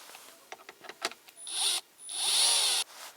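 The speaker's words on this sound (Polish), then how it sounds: "Najpierw delikatnie, znaczy żeby nie, nie kręcić za dużo razy, to wkrętarką." Cordless drill-driver backing out the hard top screws on a Jeep Wrangler: a few light clicks and taps, then two short whirring bursts of the motor, close and fairly loud, with no talk.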